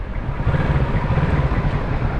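A 650cc motorcycle engine with the throttle opened gives a loud, steady low drone with a pulsing exhaust note and some wind noise, continuous for the whole stretch.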